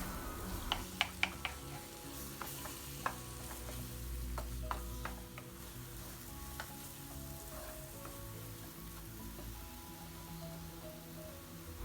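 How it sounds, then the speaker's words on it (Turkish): Peeled, chopped roasted eggplant sizzles softly in a pan while a utensil scrapes and taps against it in scattered clicks as it is stirred. "közlediğimiz, kabuklarını soyduğumuz ve aynı zamanda doğradığımız patlıcanları ilave ediyoruz ve karıştırarak kavurmaya devam ediyoruz"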